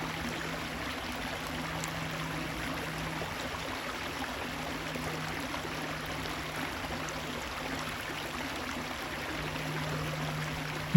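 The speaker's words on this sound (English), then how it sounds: "Hear the gentle trickle of a stream nearby." A gentle stream trickles steadily nearby, a soft continuous wash of flowing water with a faint low hum beneath it and no pauses.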